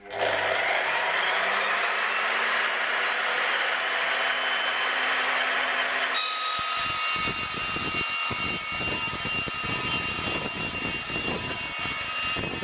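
A chop saw on a newly assembled Axminster AP1854BV pedestal stand runs loud and steady as it makes a 45-degree mitre cut. A smooth whine holds for several seconds, then gives way to a rougher, rattling grind as the blade passes through the workpiece.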